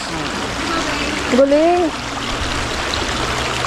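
Water runs steadily from a hose at a riverside campsite in Daraitan, Tanay, Rizal, a continuous trickling hiss heard close by while people chat over it.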